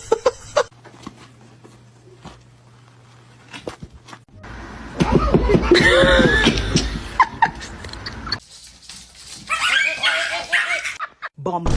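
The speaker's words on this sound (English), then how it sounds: "Spunky, what are you doing, dog?" A dog yips, whimpers and barks in short bursts close by, mixed with people talking and other background noise.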